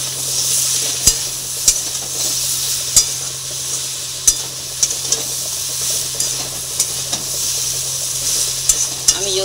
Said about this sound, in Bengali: এবার আমি সব ভালো করে মিক্স করে নেব।